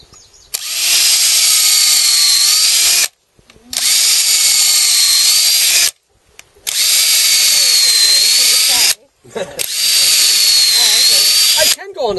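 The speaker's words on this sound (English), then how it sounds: "So I'll take my battery drill right here." A battery-powered drill bores into a log for mushroom inoculation in four loud, whining bursts of about two to three seconds each, separated by short pauses.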